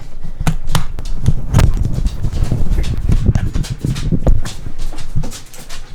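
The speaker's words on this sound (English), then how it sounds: "as I'm sure you can hear, I have many dogs in the house." Several dogs moving about indoors in a house, with scrabbling, panting and clattering paws and a few brief whimpers, loud and close, no talking.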